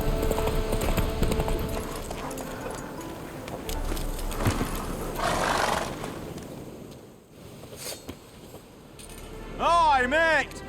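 Roach, a horse in the video game The Witcher 3, clip-clops along with steady hoofbeats, joined by jangling tack, ambient game sounds and a brief snort or whinny near the end, while a voice speaks.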